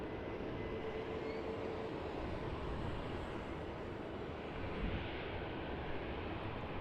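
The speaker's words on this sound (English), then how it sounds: "Looks like a Jetstar Airbus A320-200 coming in for runway" A Jetstar Airbus A320-200 lands at Sydney Airport, its engines a distant, steady broadband roar that holds evenly throughout, with no voices.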